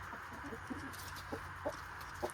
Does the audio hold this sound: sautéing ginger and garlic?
no